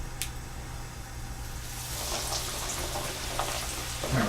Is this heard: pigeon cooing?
no